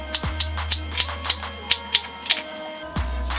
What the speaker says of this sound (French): je vais commencer à couper mes ingrédients